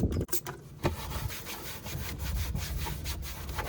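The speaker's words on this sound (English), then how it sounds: "I'm just going to clean off the surface with some rubbing alcohol first." A surface inside a Dodge ProMaster Solis RV camper is wiped with rubbing alcohol, a steady close scratchy rubbing that carries on almost without a break, with one brief pause near the start.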